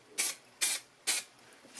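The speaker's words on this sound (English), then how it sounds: "Acid edge primer, we'll go with silver spray, followed by clear lacquer" Silver spray paint hisses from an aerosol can onto a Suzuki GSXR 600 SRAD motorcycle part in three short, evenly spaced bursts, close and clear, with no talk.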